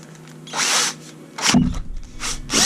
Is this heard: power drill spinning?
yes